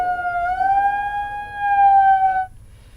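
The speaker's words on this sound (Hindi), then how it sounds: "सायरन बजेगा।" An air-raid style siren sounded in the street for Corona awareness rises and holds a loud, steady wailing tone, then cuts off abruptly just before the end.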